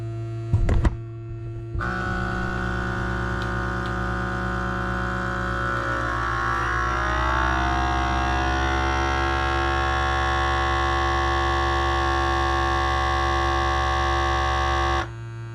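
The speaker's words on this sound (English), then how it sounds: "Vacuum sealed, and I'm gonna write." Vacuum sealer sealing a bag of portioned pork loin, a brief click followed by a steady motor hum with a slowly shifting tone as air is drawn out, running about thirteen seconds before stopping abruptly.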